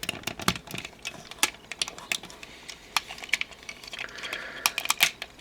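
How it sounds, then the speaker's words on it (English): Plastic Transformers Robots in Disguise Mega Class Midnight Express toy being folded and rotated, giving a run of sharp, close clicks and ratcheting snaps at an irregular rhythm, with no voice over them. "take the wheel section here, fold that down, rotate it around"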